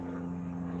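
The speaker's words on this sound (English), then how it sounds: "Sorry for the plane going overhead." An airplane passes overhead, heard indoors as a faint, steady low drone with no other sounds.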